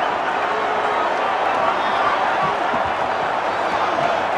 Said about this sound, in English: Crowd is still ooing over that one.